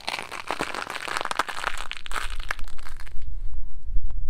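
Dry, brittle crunching and crackling as dry-rotted elastic is stretched, a rapid series of small snaps and crinkles close up with no speech.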